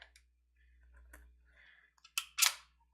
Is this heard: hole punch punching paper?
yes